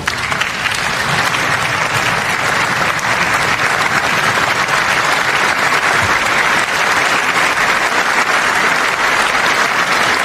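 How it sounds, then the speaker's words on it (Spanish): A crowd claps loudly and continuously as Eric Slover enters with his wife Amy, a dense, sustained applause that holds steady for the full length. "allí se escuchaba totalmente el aplauso justo con la entrada de Eric Slover"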